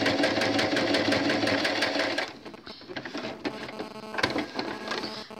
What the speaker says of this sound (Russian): прижимаем лапку и начинаем шить